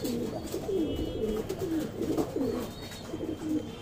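A Madrasi pigeon coos steadily in a series of soft rolling calls, close and alone against a light background hiss.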